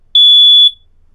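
A smoke detector converted into a water alarm gives a single sustained high-pitched electronic beep on touching water, about half a second long, loud and clear, then silence.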